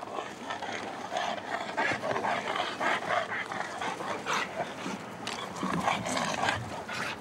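A sheriff's police dog, worked by deputies during a gang suspect arrest in Los Angeles, barks and yips excitedly in a continuous, fairly close flurry of sound amid background commotion.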